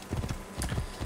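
Horse hooves clip-clop in a quick, steady gallop-like rhythm while riding through Assassin's Creed Origins, several close, even beats across a brief stretch.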